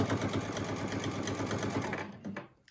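A sewing machine runs in a fast, steady mechanical chatter while backstitching over the elastic on a surgical mask, close and clear, then stops abruptly near the end.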